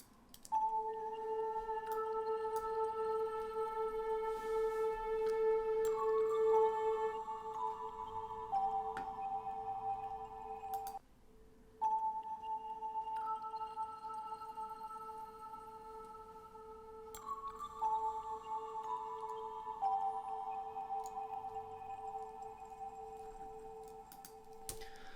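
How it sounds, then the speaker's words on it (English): Processed kalimba and vibraphone from the Magnetism Icicle snapshot ring out in sustained, shimmering tones with delay tails, forming two repeating phrases of bell-like notes that cut off briefly midway, soft and alone with no voices. "Is this Kalimba together with Vibraphone, which are processed."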